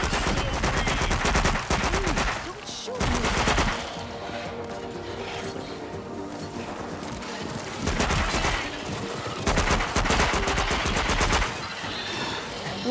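Bursts of rapid automatic gunfire from the shooter game After the Fall, loud and repeated in clustered volleys with brief gaps between them, with little talk over it.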